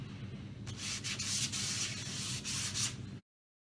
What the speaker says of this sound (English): So we're using 150 grit sanding disc coming onto this on the flat sections of the sink.